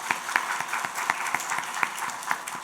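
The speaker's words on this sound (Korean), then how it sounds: "주일학교 교사로 수고하시는 우리 모든 분들을 위해서 박수로 한번 격려하면 좋을 것 같습니다." A church congregation claps for Sunday school teachers during a Sunday service, producing a short burst of applause with distinct, fairly rhythmic individual claps over a continuous bed of clapping.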